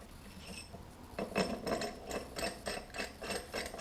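A puller tool works on the input shaft of a DeLorean transmission, making close, quiet, evenly spaced ratcheting clicks that begin after a short pause and continue steadily.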